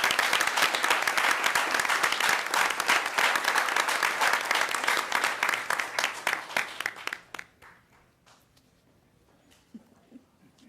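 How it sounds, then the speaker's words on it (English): An audience at a school award ceremony gives a sustained round of applause for music directors and their students, loud dense clapping that thins out to a few scattered claps after about seven seconds. "Please join me in a round of applause for these directors and their students on this outstanding achievement"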